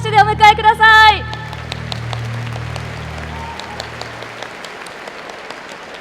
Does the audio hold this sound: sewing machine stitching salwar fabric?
no